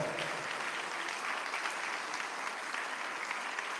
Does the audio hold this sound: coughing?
no